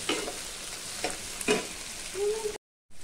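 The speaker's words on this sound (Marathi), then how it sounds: "आता आपण ह्याच्यामध्ये घालूया टोमॅटो। आपल्याला चांगला मऊसर होईपर्यंत परतून घ्यायचा आहे।" Tomatoes sautéing in a hot pan give a steady sizzle, with a few scraping stirs of a spoon near the start and middle, then a brief silence before the frying resumes.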